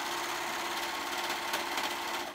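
A serger overlocker runs steadily at speed, stitching three fabric edges together with a fast, even mechanical whir, close up and without talking.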